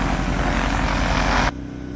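A Piper Cub floatplane's engine runs up loud and close to about 1,500 RPM, a steady propeller drone that drops sharply in pitch and roar near the end as the power is pulled back.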